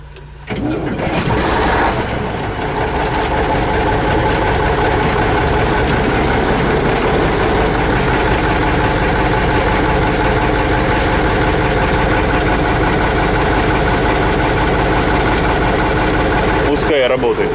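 A T-150K tractor engine cranks briefly, catches and settles into a loud, steady, rumbling idle that runs without a break, close up and dominant.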